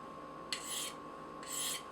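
A Cold Steel Voyager Medium knife with an AUS8a steel blade gets a micro bevel added to its edge: two short, crisp rasping strokes of the blade across a sharpening surface, close and clear over a quiet background hum.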